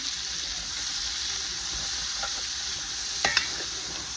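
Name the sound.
cabbage and onions sizzling in pan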